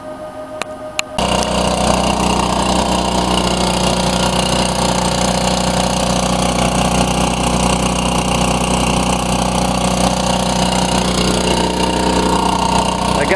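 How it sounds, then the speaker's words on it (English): A DC generator starts and then runs steadily to power an RV, a loud continuous engine drone with a buzzing rattle that keeps a constant level, with no talking. "I got my DC generator fired up and going into the RV"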